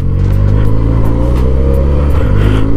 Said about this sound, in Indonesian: Kita bagi kereta Alza ni keluar dulu.